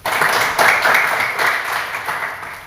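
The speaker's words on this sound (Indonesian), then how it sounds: "Silakan tepuk tangan untuk kita semua dulu." Audience applause at an Indonesian classroom or seminar session, a dense, steady patter of many hands clapping together for the whole stretch, fairly loud and close, with no talk over it.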